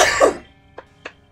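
A single harsh cough bursts out close by, followed by two faint soft clicks in the quiet.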